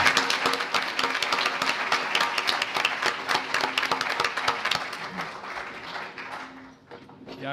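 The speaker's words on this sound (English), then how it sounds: "Let's give Deborah a round of applause." An audience claps steadily at a business pitch competition, dense sustained applause that fills the room and starts to thin out at the very end.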